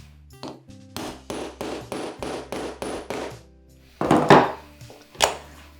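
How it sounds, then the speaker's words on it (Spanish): A hammer drives a metal snap rivet into a small leather purse, about six quick, evenly spaced close taps followed by two or three heavier, louder blows. "Pero vamos a darle con el martillo."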